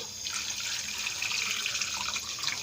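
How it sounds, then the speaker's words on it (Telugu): Water pours over fruit pieces in a pan on the stove, a steady splashing trickle, close and fairly quiet, with no voices. "ఇప్పుడు ఈ ముక్కల్లోని వాటర్ పోసుకోవాలి"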